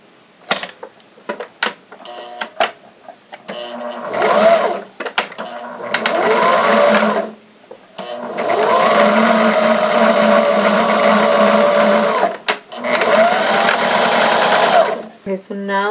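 A sewing machine stitches a fabric face mask in several bursts of a few seconds each, with brief pauses between runs and a few clicks; the whirring is loud and close.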